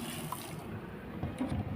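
Water pours steadily into a container for soaking eggplant and pea eggplant cuttings, a brief close gushing wash without speech.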